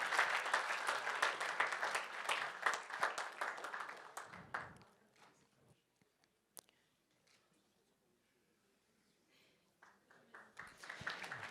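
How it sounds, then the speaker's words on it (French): A roomful of people claps warmly for several seconds at a student project prize ceremony; the applause fades to near silence, then swells again toward the end. "on va pouvoir vous remettre votre prix, toujours sous un tonnerre d'applaudissements"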